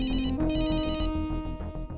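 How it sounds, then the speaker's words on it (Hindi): A phone ringtone plays a repeating electronic melody, loud and close, with rhythmic pulses continuing throughout. "फोन की आवाज यहां से आ रही है क्या?"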